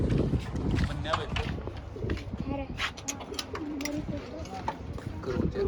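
Soft, low pigeon coos repeat close by amid rustling and fluttering, with a person talking intermittently over them.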